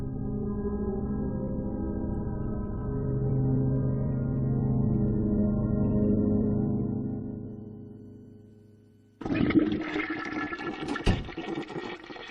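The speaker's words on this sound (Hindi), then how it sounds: "सॉरी, 2 बार फ्लश करना पड़ा।" A toilet flushes in a Hindi-dubbed animated film: a loud, sudden rush of water cuts in after a fading, sustained tonal sound, then churns on for a few seconds with no talk.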